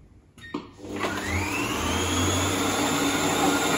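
A Kenwood Cooking Chef food processor running at speed 4 to chop vegetables: a few clicks and knocks, then the motor spins up into a loud steady whirring drone that holds to the end.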